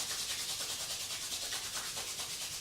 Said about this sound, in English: we're going to rub our hands together